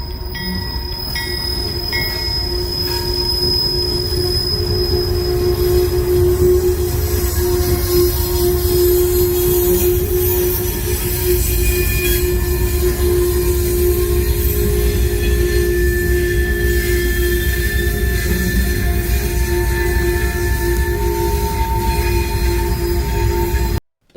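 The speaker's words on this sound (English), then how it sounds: "First train on this list is CSX B216, Phosphate empties, going to Mulberry, Florida, with a solo BNSF-9 on the point." A CSX freight train of empty phosphate cars, led by a single BNSF locomotive, rolls past close by with a continuous heavy rumble of wheels on rail, steady clatter and sustained squealing tones, with no voices.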